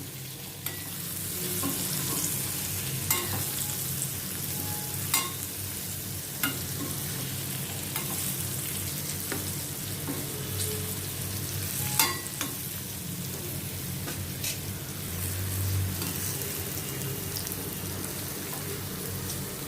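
Stuffed okra (bharwa bhindi) sizzles and fries steadily in a pan while a spoon stirs it, giving soft scraping clicks over a constant crackling hiss, with no talking.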